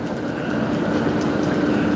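A passenger train with first-class carriages rolls past, producing a steady, continuous rumble and hum of wheels and running gear at fairly close range, without voices.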